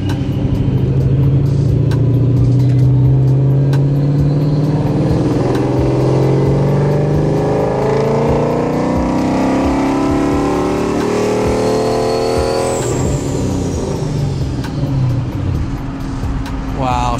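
A loud S197 Ford Mustang engine with a Paxton 2200SL supercharger roars and revs continuously, its pitch climbing and falling, close by and dominating throughout.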